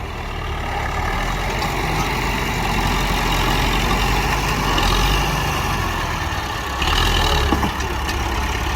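A Massey Ferguson MF185 farm tractor, with its front blade, runs its engine in a field at a steady low rumble, close and loud throughout, revving up briefly near the end with no speech.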